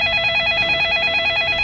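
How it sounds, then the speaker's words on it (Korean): Smartphone ringtone in a Minecraft video game, a short bright electronic ring with a pulsing, repeating tone pattern, loud and alone. "내 스마트폰이 빛을 내며 전화가 온 것을 알렸다."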